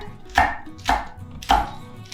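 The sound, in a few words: knife chopping green onion ends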